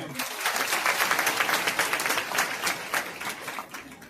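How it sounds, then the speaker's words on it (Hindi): An audience at a Bhagwat Katha religious gathering applauds steadily for several seconds, dense clapping that fades slightly near the end, with some voices mixed in. "एक बार इसके लिए तालियां हो जाए"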